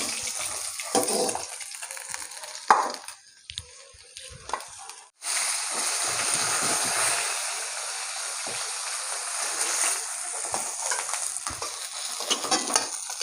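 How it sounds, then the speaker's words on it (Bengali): Fish frying in oil in a home kitchen makes a bright, broad sizzle broken by stirring and scraping clatter, dropping briefly near the middle before the crackle returns steady and close. "মাছগুলো ভালো করে ভেজে নিয়েছি, তুলে নেবো এখন।"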